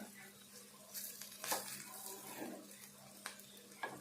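Bitter gourd fry cooking in a pan gives soft, low sizzling with a few sharp scrapes and clinks of stirring scattered through, fairly faint and close.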